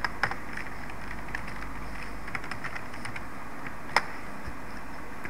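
Sparse keystrokes tapped on a computer keyboard while code is entered, a few light clicks scattered over a quiet background with one sharper tap standing out.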